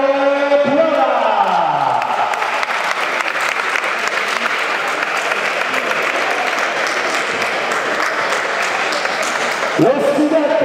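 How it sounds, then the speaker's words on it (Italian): Audience applause for senior 91 kg boxer Cristiano Piola in the corner at an amateur boxing match, a loud, dense burst of clapping and cheering from a crowd, with an announcer's voice sounding over it at the start and again near the end. "Facciamo un grande applauso all'angolo 2, accompagnato dalla DNA Box, Cristiano Piola"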